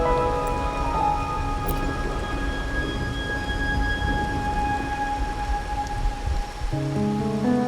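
Steady rainfall with rumbling thunder on a night scene in the game Wuthering Waves, a constant patter under soft sustained musical tones, with a low rumble swelling toward the end.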